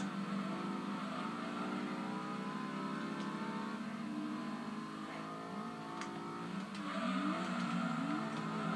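A car engine revs and whirs continuously in a racing video game played on a JXD S7800b handheld, a steady mid-pitched drone with rising and falling revs.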